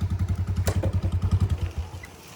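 A Royal Enfield Bullet motorcycle thumps at idle close by in a regular low beat, then the pulses slow and die away toward the end.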